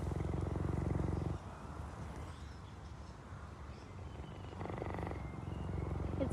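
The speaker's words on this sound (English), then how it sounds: "Now I'll go quiet for a second and we'll see if we can hear that purr" Solo, a fully grown male cheetah of about 45 kilos, purrs loudly and steadily up close in a continuous low rumble that pulses with each breath and softens partway through.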